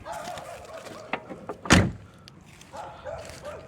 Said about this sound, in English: Them doors be closing so good